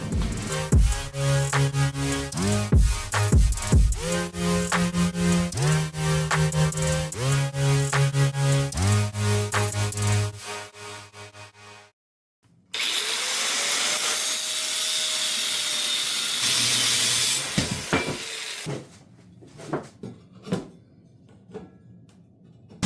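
Steel for a desk frame is cut with a power tool, a loud continuous grinding roar lasting several seconds, preceded by music and followed by a few sharp knocks.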